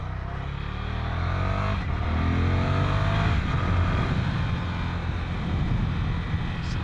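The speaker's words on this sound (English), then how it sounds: "so the 1100cc engine definitely picks up pretty darn quick" A 2020 Ducati Scrambler 1100 Pro with its 1100cc engine accelerates on the road, a loud, steady engine roar climbing in pitch under rushing wind, with no talking.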